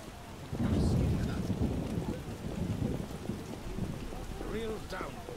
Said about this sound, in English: it rains.